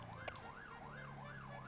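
A police siren from a video game wails in steady rising and falling sweeps, continuous and fairly loud, over a low engine drone as the patrol car drives through city streets with its lights on.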